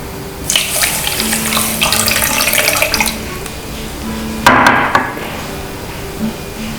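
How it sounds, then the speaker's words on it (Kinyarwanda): Water pouring into a pan holding sugar for homemade boba coffee, a loud close splashing stream for about three seconds, followed by a short burst of knocking and splashing. "Ndangiza nshyiramo amazi."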